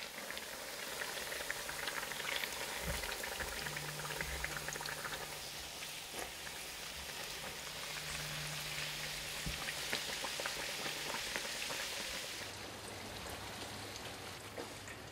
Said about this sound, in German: gießt heißes Schmalz darüber